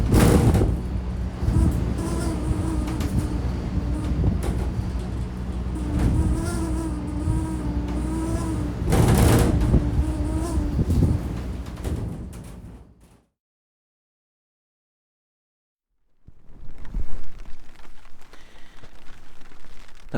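Wind and rain at an exposed bus shelter in Shetland: a steady, fairly loud roar with rumbling low gusts and patter for about thirteen seconds, then a sudden silence before the windy rush returns more faintly.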